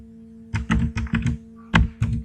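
Typing on a computer keyboard while writing Arduino code, seven or eight close, clacky keystrokes in two quick bursts separated by a short pause, with no talking.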